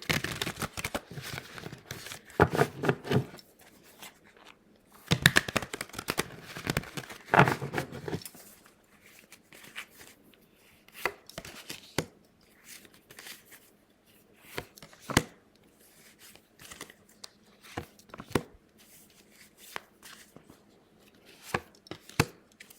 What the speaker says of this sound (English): Let's give the cards a ruffle shuffle